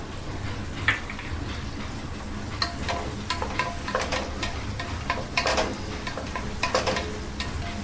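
Vegetables for veg biryani fry in a pan, a steady sizzle broken by scattered clicks and scraping stirs, moderately loud and close, with no voices.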